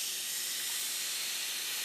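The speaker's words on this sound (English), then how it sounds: "Listen to that sizzle." Continuous loud sizzling and hissing of marbled beef steak searing in a very hot dry skillet without oil, steady throughout with no voices.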